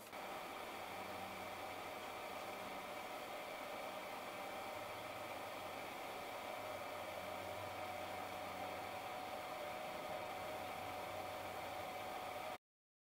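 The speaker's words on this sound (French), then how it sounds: "la ventilation vient de se mettre en route au niveau du petit chargeur" The cooling fan of a small charger for a Pecron E600 LFP battery gives a steady, faint whirring hiss that runs evenly throughout with a low hum underneath, constant and unchanging until it cuts off.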